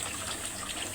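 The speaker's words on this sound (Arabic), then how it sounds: "دلوقتي هننزل ب2 كيلو لبن." Two kilograms of milk pour into a pot in a kitchen, a brief, steady, close gushing stream.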